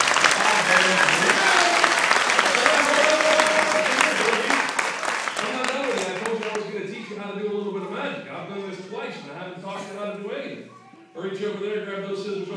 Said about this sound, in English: Give Cindy a big round of applause.